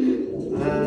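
A pigeon gives a short, low, throaty coo at close range, a brief rolling call with nothing else around it.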